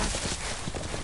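Horse hooves clip-clop in a steady, fairly dense rhythm at a live Game of Thrones show, close and continuous with no voices over them.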